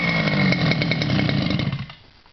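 The small two-stroke gas engine of a 5th scale FS Racing King Kong RC car buzzes loudly and close after a pull start, firing briefly before sputtering and dying away.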